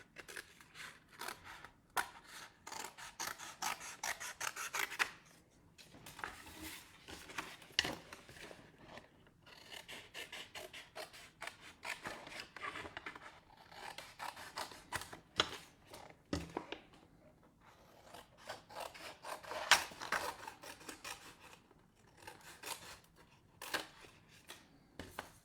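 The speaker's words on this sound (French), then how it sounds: "On prend un ciseau et on va venir" Scissors snip the corners of paper for a handmade album, a run of crisp close cuts in irregular bursts with short quiet gaps, no speech.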